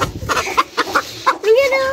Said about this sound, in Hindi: अभी इस मुर्गी को हम उधर बंद करते हैं